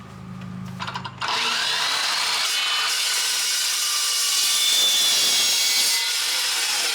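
A blade-type metal-cutting saw slices through pieces of metal in a workshop, a sharp start followed by a sustained, high, gritty whine at close range, with no talking.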